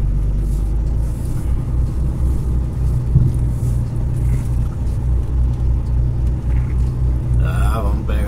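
Car driving along a rural highway past a roadside fuel station in the Xingu valley of Brazil, a steady low road rumble and engine drone that holds at an even level from start to finish.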